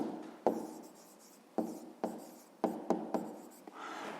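A pen scratches across paper in short repeated strokes, close and fairly quiet, with distinct taps where each stroke begins while numbers are written out for a fifth-grade math exercise.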